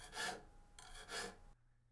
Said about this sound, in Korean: 줄로 다듬고